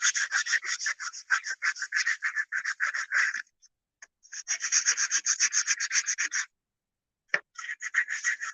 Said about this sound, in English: I take the sandpaper and just kind of smooth it out because it's kind of rough